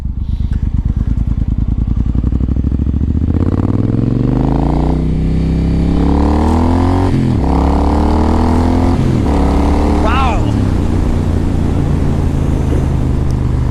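A 2013 Triumph Thunderbird with ABS pulls hard through its gears, the engine note climbing and dropping at each shift, loud and close with steady exhaust rumble throughout.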